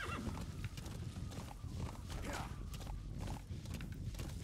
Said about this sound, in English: how do I drive this horse again?